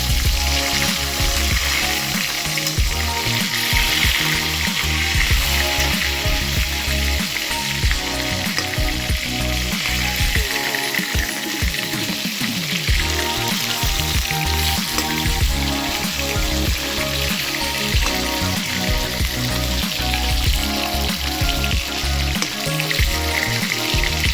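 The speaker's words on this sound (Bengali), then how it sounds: "ভেটকি মাছটাকে প্রথমে লাল লাল করে ভেজে নিতে হবে।" Pieces of bhetki fish deep-fry in oil, making a loud, dense, unbroken crackling sizzle close up for over twenty seconds, with music playing underneath.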